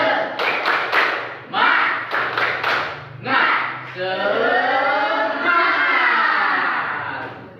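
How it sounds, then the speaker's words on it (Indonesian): A class performs the rhythmic 'tepuk semangat' clap chant. Two groups of three sharp, near claps, each followed by chanting, lead into a long sustained group shout, with voices throughout. "kita lakukan tepuk semangat dulu bersama-sama ya"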